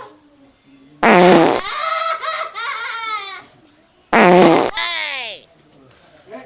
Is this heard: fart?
yes